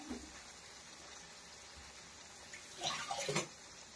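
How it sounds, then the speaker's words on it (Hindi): Water splashes into a kitchen jar for rinsing, a brief burst of pouring and sloshing near the end over a quiet room hiss. "मैं जार को धो लेती हूँ इसी को पानी डाल दूंगी इसमें"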